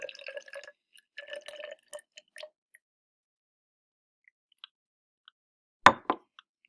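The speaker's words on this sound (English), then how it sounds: "I'm going to pour this into the graduated cylinder until I have" Blue-dyed water trickles into a glass graduated cylinder up to 50 milliliters, a few quick liquid splashes and patters followed by quiet, then one sharper plop and a couple of trailing drips.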